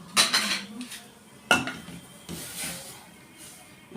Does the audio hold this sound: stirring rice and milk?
yes